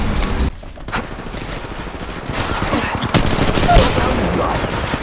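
Gunfire in the Apex Legends Mobile video game, loud sustained automatic bursts and rattling shots that continue nearly throughout, under some voices.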